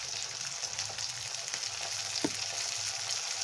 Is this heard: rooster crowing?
no